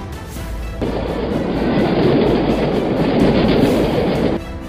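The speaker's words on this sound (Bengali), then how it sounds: "train train" Cartoon train rushing past, a loud steady rumble and clatter that swells in abruptly, holds for a few seconds, then cuts off.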